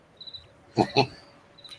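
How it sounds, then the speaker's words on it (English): A cricket chirps indoors in short, faint, high trills at the start and end, with two brief louder voice bursts between them. "Hey, I hear crickets."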